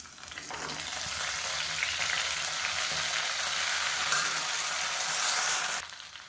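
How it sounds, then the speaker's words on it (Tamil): Chopped mint and coriander sauté in hot oil with fennel seeds, giving a loud, steady sizzle and crackle that runs almost the whole time and stops abruptly at the end, with no talking. "இப்போ பொரிய ஆரம்பிக்குது புதினா கொத்தமல்லி பொடியாக கட் பண்ணதை இந்த எண்ணெயில் சேர்த்து வதக்கிக்கலாம்"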